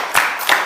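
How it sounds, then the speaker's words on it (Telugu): Classroom clapping during a Class 10 biology revision lesson: two short bursts of hand claps, close and fairly loud, with no talking over them. "మంచిగా చప్పట్లు కొట్టండి"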